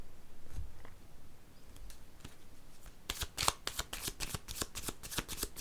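Oracle cards are shuffled by hand close up, a soft rustle that grows into a fast run of crisp riffling flicks in the second half.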